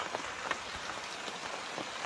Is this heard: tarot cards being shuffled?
no